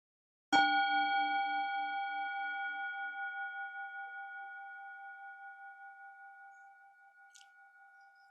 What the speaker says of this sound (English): I invite you again into the sound of our bell